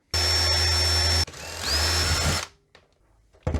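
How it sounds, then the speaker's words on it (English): Power screwdriver backing screws out of the plastic case of a Philips AZ1880 Soundmachine, two loud whirring runs with a brief pause between them, then a quiet stop and a short final burst. "I'll start by unscrewing those 3 screws and see if that's enough to open the case."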